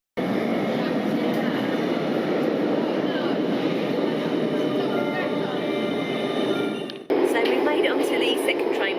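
A double-decker train pulls into a station near Paris, its heavy rolling rumble and rail hiss steady and close before cutting abruptly to a brighter, noisier platform ambience.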